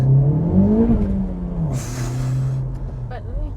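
A Honda Civic FK8 Type R in +R mode revs its engine, the tone climbing and then holding at a steady, loud drone, with a brief hiss partway through.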